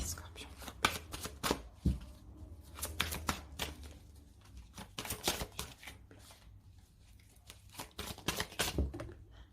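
Oracle cards are shuffled for a tarot reading, producing a series of close, crisp riffling and flicking bursts in uneven rhythm while someone speaks over them.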